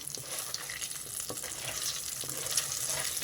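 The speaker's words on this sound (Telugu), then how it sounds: "ఇవి కాస్త వేగాలి ఆ చల్లమిరపకాయల ఫ్లేవర్ ఆయిల్లో కలిసి భలే స్మెల్ వస్తుందండి" Lentils, cumin and chillies frying in hot oil make a continuous soft sizzle and crackle, close but fairly quiet, with no talking.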